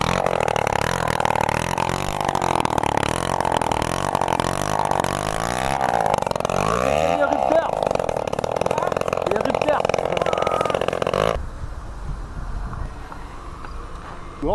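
Motorcycle engine fitted with an aftermarket exhaust pipe from 1988, revving and running close by for about eleven seconds under people talking, then cutting to quieter ambient noise.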